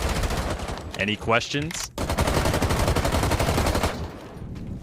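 Automatic weapon recoil fire in Rainbow Six Siege while the Adrenal Surge boost is active: rapid, dense gunfire bursts that run almost without a break. A voice briefly cuts in near the start.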